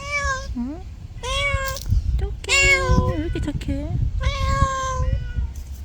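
Cats meow repeatedly up close, with a series of clear, drawn-out and rising cries, while a person talks over and between them.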